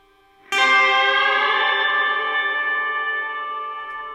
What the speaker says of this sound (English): It's just reverb, just a lot of reverb.